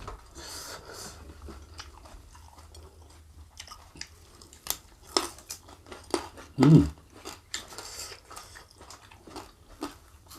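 Crispy whole fried chicken with spicy sambal being eaten up close, with scattered crunchy bites and wet chewing, one loud crunch standing out among quieter mouth sounds.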